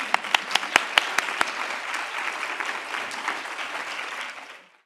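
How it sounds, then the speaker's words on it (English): Audience applause at an academic conference on global maternal, adolescent and child health, opening with a few sharp individual claps before swelling into sustained, fairly distant clapping that fades out at the end. "please give this phenomenal audience a round of applause."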